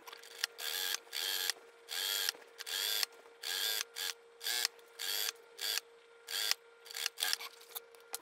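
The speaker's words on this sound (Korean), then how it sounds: "이렇게 핀을 꽂고 일단 한 줄을 박아 줄게요." A sewing machine stitching a seam line on a jacket-style blouse, running in repeated short bursts of rapid whirring with brief pauses between, close and clear, no talking.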